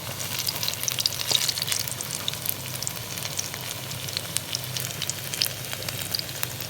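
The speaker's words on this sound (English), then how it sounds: "I'm just going to turn them and then I'll allow them to fry" Jamaican saltfish fritters frying in hot oil make a soft, continuous crackling sizzle, thick with small pops and spits that keep going the whole way through, and no one speaks over it.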